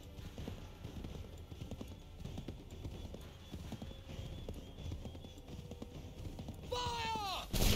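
Steady clip-clop of horse hooves galloping throughout in Assassin's Creed III, mixed with game background noise, ending in a horse's whinny.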